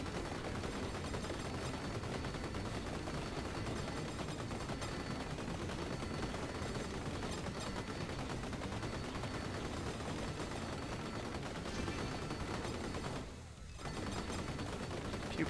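Many guns fire together in the video game Vampire Survivors, a dense, loud, unbroken barrage of rapid shots lasting throughout, with a short dip near the end before the firing resumes.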